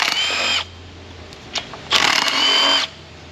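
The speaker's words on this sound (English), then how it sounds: "So, let's just pull these perimeter bolts out." Power tool spinning out perimeter bolts on a 2006 Cadillac Northstar 4.8 engine, two loud whirring bursts with a pause between them and faint clicks in the gap.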